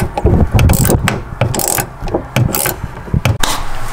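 Open-end wrenches working loose the strut top nut on a BMW E92 M3 make close ratcheting and scraping metal clicks with bursts of rubbing, continuous and busy.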